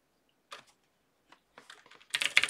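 Typing on a computer keyboard, heard as a few isolated key taps and then a quick, clattering flurry of keystrokes, close and crisp against silence.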